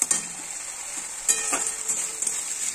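Yogurt curry masala sizzles and fries in a pan while being stirred, a continuous bright hiss with a few scraping stirs and light clatters, close and moderately quiet, no voices.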